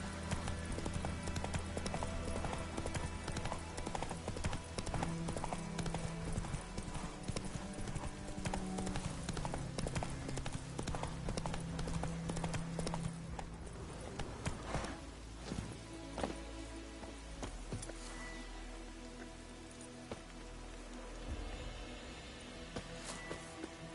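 Roach, a horse in The Witcher 3 video game, gallops with loud, rapid, continuous clip-clopping hooves close by, over a dense game soundscape and music. The hoofbeats ease off slightly toward the end.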